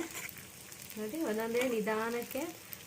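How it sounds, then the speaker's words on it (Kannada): Eggs fry in a pan for egg masala with a soft, steady sizzle running beneath a nearby person talking. "ನೋಡಿ, ಚೆನ್ನಾಗಿದು ಫ್ರೈ ಆಗುತ್ತೆ."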